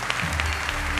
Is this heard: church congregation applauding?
yes